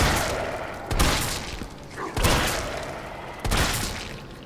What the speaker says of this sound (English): Like fucking explosions.